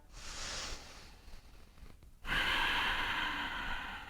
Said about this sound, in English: Last full breath.